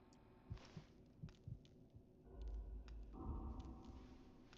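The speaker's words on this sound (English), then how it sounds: "Now I don't have the heartbeat going on." Heartbeat sound in the video game Fallout London, a soft thudding pulse repeating in an irregular beat under a low hum, faint and close, without speech.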